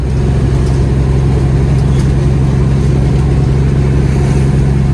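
A Peterbilt 379 truck's engine drones steadily as the rig drives down the road. The low, heavy rumble is close and loud and holds constant for the whole stretch, with no talk over it.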